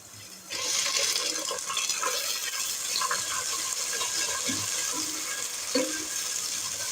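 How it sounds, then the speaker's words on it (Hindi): Soaked fenugreek seeds land in a pan of garlic, raising a steady sizzling hiss throughout, with a few light clinks and scrapes near and clear, no talking. "अब मैं इसमें शामिल कर रही हूँ ये भीगी हुई मेथी दाना।"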